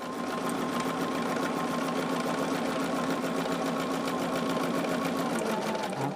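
Sewing machine stitching the side of a charm tote at a 1/2 inch seam allowance, a rapid, even mechanical whirring hum with a fast rhythmic clatter, close and continuous throughout.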